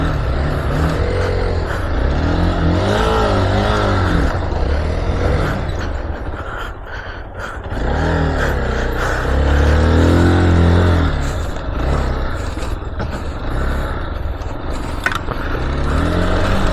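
A Hero Xpulse rally edition motorcycle ridden on an off-road track at a Hero X-track event in Marthandam, its engine revving up and down close by in continuous, surging waves with no pause.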